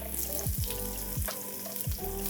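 Julienned ginger and slit green chilies sauté in a pan for a drumstick pulimunchi curry, giving a loud, continuous sizzle broken by a few sharp stirring scrapes.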